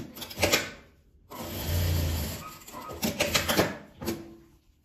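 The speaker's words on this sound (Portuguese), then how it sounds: "Tudo junto, vou costurar." A sewing machine stitches a zipper together with lining fabric, with short close bursts of running stitches separated by pauses and small handling clicks.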